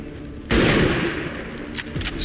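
A single loud rifle shot from the X-COM video game cracks out abruptly, followed by a sustained rumbling tail, with a couple of faint clicks near the end.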